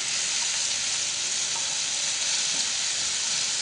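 Sardine balls fry in a pan with a steady, close sizzle and hiss that stays even from start to finish, with no talking.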